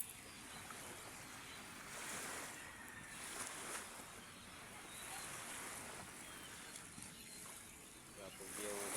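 Sea waves wash continuously at a quiet distance, a steady broadband surf hiss with gentle swells, mixed with light wind, heard from a seaside spot where a boat is nearby.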